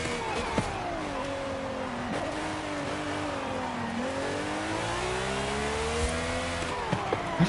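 Ferrari F50 engine in a racing video game revving up and down through several gear-shift sweeps, a steady loud harmonic drone with rising and falling pitch and brief tire noise, no talking.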